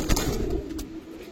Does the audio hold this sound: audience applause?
no